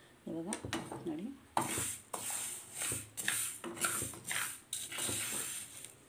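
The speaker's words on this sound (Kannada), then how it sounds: "ಈ ಮೆಂತ್ಯ ಎಲ್ಲ ಫ್ರೈ ಮಾಡ್ಕೋಬೇಕು ನೋಡಿ" Fenugreek seeds frying in a hot pan on a stove, with a steady sizzle and repeated scraping and clinking of a spoon against the pan as they are stirred, with a voice talking over parts of it.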